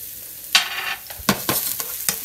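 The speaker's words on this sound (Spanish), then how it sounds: "vamos a echarle el ajo y vamos a que se guise poquito el ajo" Garlic frying in olive oil in a pan, a steady close sizzle punctuated by several sharp stirring scrapes at irregular intervals.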